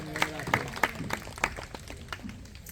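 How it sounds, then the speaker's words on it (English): A small crowd claps at an animal show at African Lion Safari, sharp separate claps in a loose rhythm that thin out toward the end, with a voice over them. "let's all give them a big round of applause"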